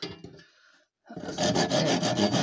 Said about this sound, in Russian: пилим, чтобы ровно стало, чтобы ровно было тут